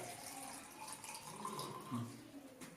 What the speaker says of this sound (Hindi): ये जैसे मैंने पानी डाला